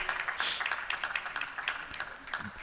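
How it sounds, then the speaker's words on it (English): An audience at a national annual conference applauds a guest with steady, dense clapping that holds evenly from start to finish. "Can we please put our hands together for him?"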